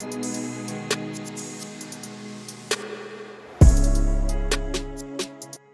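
Music cuts away to a lone snare hit whose long reverb tail rings on, with a deep low boom entering midway and fading out by the end.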